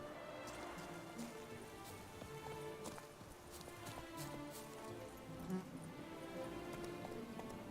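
Hooves of Geralt's horse Roach in The Witcher 3 clip-clop in a steady running gait under rain-like ambient noise and game atmosphere, with no voices.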